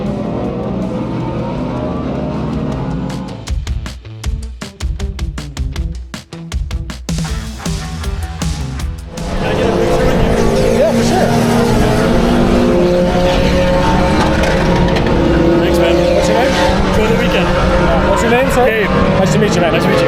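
Race cars circulating during Lone Star Le Mans 2024 practice, engines droning and passing, with a rapid stuttering burst midway before a steady loud roar resumes; people talk over it.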